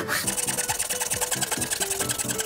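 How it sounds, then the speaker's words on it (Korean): A hand saw cutting through a wooden board set against a guide piece, with steady back-and-forth rasping strokes at a quick, regular rhythm, close and fairly loud with no talking. "톱을 요 위치에 딱 붙여가지고 그대로 자르시면"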